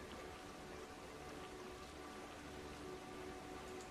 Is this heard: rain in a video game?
yes